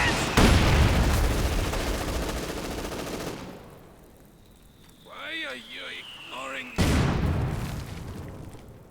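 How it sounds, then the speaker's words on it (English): Heavy Company of Heroes 2 battle audio: dense booming mortar and gunfire bursts fill the opening seconds, a brief quieter stretch with faint voices follows, then another loud blast erupts near the end. "Mortar there."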